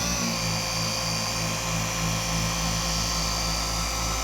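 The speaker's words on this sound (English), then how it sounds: "Again, the pad is rotating." A rotary polisher pad spinning on car paint to remove scratches and swirls, producing a loud, constant high-pitched machine whine with a steady motor hum throughout and no speech.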